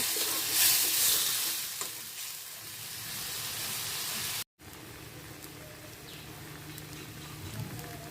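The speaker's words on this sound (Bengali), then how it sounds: "আমি সব মশলা একসাথে দিয়ে কষিয়ে নিচ্ছি" Whole spices, turmeric, chili and coriander powder with green chilies and tomato sizzle steadily in a pan while being stirred, a dense broadband frying hiss broken by a brief dropout midway, for a village-style bele fish curry.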